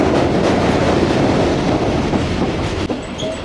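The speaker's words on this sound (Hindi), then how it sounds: "नीचे से हमारी ट्रेन जा रही है" Overnight Tezgam passenger train rolling on rails beneath the M5 motorway near Khanpur, a loud, steady rumble with rhythmic clatter of wheels on track, heard from inside the moving carriage.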